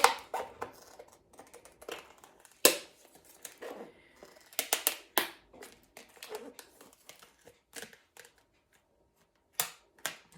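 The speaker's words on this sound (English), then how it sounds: "I'm going to cut this one out that we just did because I think it's dry now." Scissors snip out a drying nail varnish drawing on paper, with irregular close crisp cuts and paper rustling between bursts.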